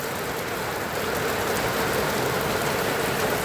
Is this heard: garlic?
no